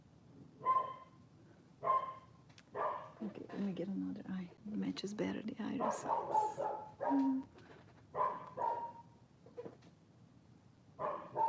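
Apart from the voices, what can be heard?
dog barking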